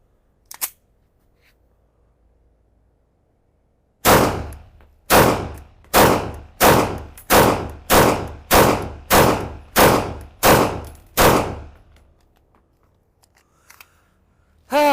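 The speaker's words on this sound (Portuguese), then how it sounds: "deixem-me disparar mais alguns tiros" Eleven sharp gunshots from a Canik TTI Combat pistol ring out in a steady, evenly spaced volley, loud and close, with a faint isolated click before them and another short sharp sound at the end.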